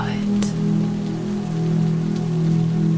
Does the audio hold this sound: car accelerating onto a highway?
no